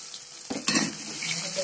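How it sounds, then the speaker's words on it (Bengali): Chopped onion frying in oil with whole cumin, bay leaves and a dried chilli, a steady close sizzle with a couple of stirring scrapes in the pan. "পেঁয়াজটা একটু ভেজে নেবো, বেশ ব্রাউন করে, লাল লাল করে হালকা"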